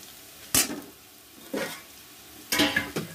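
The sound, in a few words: onions frying and being stirred in pan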